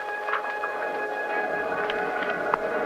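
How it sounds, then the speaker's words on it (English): Far-off rumble of an approaching express train at a dim, empty station platform, a vintage radio drama effect with a steady low hum, faint metallic tones and occasional clanks. "I could hear the far-off rumble of the train coming closer, closer."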